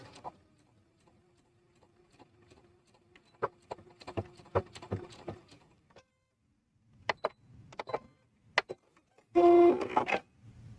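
A sewing machine runs a few stitches, then back stitches, heard as short, sparse mechanical bursts with quiet gaps, ending in a louder, denser run of stitching.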